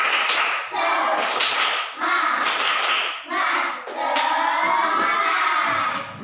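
Schoolchildren in a classroom do a rhythmic group clap, patterned bursts of hand clapping and slapping alternating with their chanted shouting in unison, loud and close.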